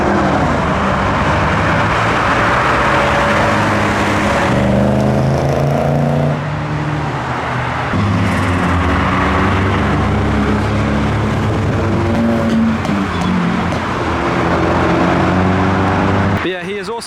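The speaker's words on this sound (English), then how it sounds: "We've got a Turbo MX-5 driving past" Turbocharged Mazda MX-5 roadsters drive past one after another as a Reading Japanese car meet breaks up, engines droning and shifting pitch as each car passes close by, with a voice talking over them.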